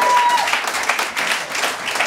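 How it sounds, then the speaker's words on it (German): Steady, dense applause from an audience filling the whole moment, with no pauses or voices standing out. "Also ein riesen Applaus"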